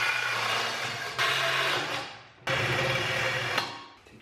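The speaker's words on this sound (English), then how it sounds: "we're just going to take our saw and continue cutting through those ribs" A saw cuts through the ribs of a CD009 transmission case in loud, harsh bursts of rasping, grinding noise, two long passes that each start abruptly and fade off.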